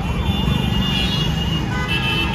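An ambulance siren wails in a continuous rising and falling pattern over the dense rumble of idling traffic close by, stuck in a traffic jam in Indore.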